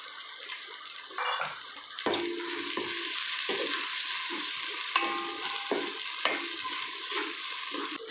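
Mint and coriander leaves sautéing with ginger garlic paste in a pan, giving a continuous close sizzle with occasional stirring clinks and scrapes of utensil against the pan.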